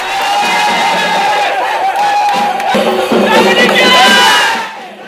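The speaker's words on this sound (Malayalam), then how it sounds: "പാലഭിഷേകവും ആർപ്പുവിളികളും ചെണ്ടമേളവുമായി ആരാധകർ തിയേറ്ററുകൾക്ക് മുന്നിലെത്തി." Film fans gathered outside a cinema theatre in Kerala for a first show, a loud, dense crowd of cheering and shouting voices that swells and rises in bursts, close and continuous.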